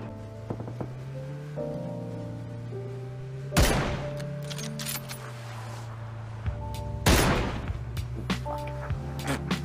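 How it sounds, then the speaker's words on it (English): Gunfire in PUBG, a few loud, sharp shots and bursts striking near a moving vehicle, whose engine hum runs steadily underneath with changing pitch. "We're getting shot at."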